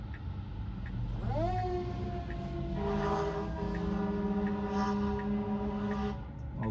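Fire truck siren rises and holds a steady wail as it passes on the road in Santa Clarita, heard loud and continuous from inside a car over road hum.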